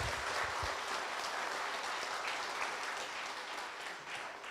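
Audience applause for a university professor at a book concert, a dense wash of clapping that holds steady and fairly distant, slowly tapering toward the end.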